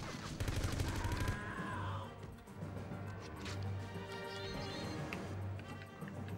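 Desert Eagle pistol fire in the 007 Everything or Nothing video game, a burst of sharp shots in the first second or so, then a mix of game sounds and music with scattered impacts.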